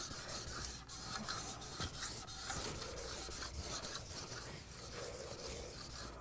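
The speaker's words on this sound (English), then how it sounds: "so I have all my pressure on the side of the trowel away from me, and rub it pretty vigorously" A steel trowel rubbed hard and fast over Venetian plaster makes a continuous scratchy, rasping scrape in quick back-and-forth strokes, close up and steady, with no voices.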